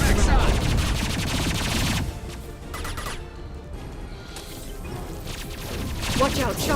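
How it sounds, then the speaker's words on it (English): High impact shots fired in the sci-fi shooter Mass Effect 2, a burst of heavy booming gunfire at the start, then quieter combat rumble and scattered shots continuing, with voices speaking under the action. "Firing a high impact shot!"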